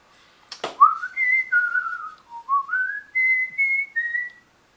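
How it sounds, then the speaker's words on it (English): A person whistles a bright melodic tune, alone and close, in short held and gliding phrases with a sharp click just before the first note. "Let's test if I get a musical strike for whistling too good"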